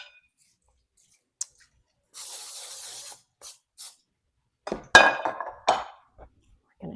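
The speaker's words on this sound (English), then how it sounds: "I'm going to spray a baking dish" Cooking spray hisses onto a baking dish in one steady burst of about a second, preceded by a small clink and followed by a few short puffs, then clattering kitchen sounds and handling noise.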